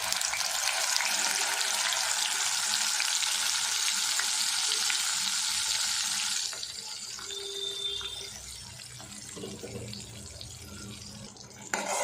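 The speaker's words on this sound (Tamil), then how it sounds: "இதில் ஜீரகம், சோம்பு எண்ணெயில் பொரிஞ்சதுமே நம்ம அரைச்சி வச்சுருக்கிற விழுதுகளை இதில் ஆட் பண்ணிடலாம்." Ground masala paste added to hot oil with cumin and fennel for an egg masala gravy, a loud bright sizzle for several seconds that then drops to a quieter, low bubbling fry.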